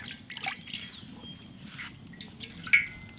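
Coconut oil is poured into an iron cooking pan, making quiet, brief trickles and drips against a soft background.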